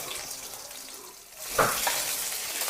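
Sliced onion drops into hot oil for karimeen (pearl spot fish) masala, setting off a sudden loud sizzle halfway through that keeps going as a steady, bright hiss.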